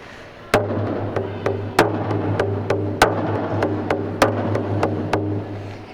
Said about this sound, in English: One of these stereotypes is a drum beat that we think all Indians do.